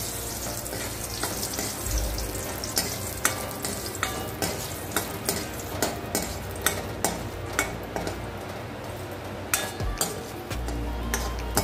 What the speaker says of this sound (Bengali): বড়িটা লাল লাল করে ভেজে তুলে দিলাম